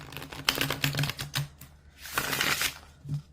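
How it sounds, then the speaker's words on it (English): Tarot cards being riffle shuffled by hand, close and fairly loud, with bursts of rapid fluttering clicks and a sustained riffle, separated by short pauses. "So I like to riffle shuffle. I riffle shuffle 3 times."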